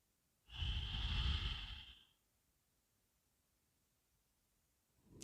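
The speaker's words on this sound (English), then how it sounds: "Take it in through the nose again. Exhale it out." A single deep, slow breath drawn in and let out through the nose outdoors during a yoga session, close and soft, followed by quiet.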